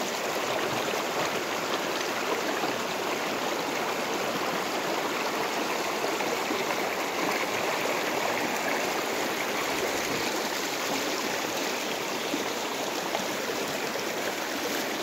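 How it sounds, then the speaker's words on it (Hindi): Water from a stream in a Meghalaya village, flowing over big stones, rushes in a steady, loud, dense wash with no break, close by and alone. "इधर का बहुत सुंदर से पानी आ रहा है।"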